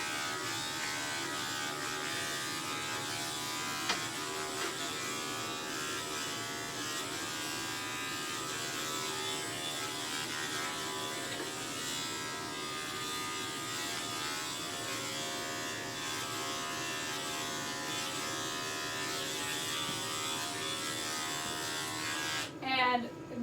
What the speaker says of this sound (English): I shave the base of the tail a little bit